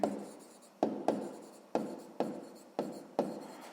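Pen or pencil writing on paper while numbers are noted down for a sixth-grade math exercise: seven short scratchy strokes, each starting sharply and fading, close and fairly quiet, with no talking.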